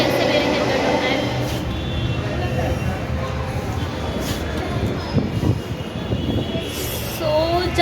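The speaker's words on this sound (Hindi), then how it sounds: "यहाँ मेट्रो का मतलब मेट्रो चल रही है" A metro train rumbles along steadily with wheels squealing now and then, and indistinct voices murmur underneath.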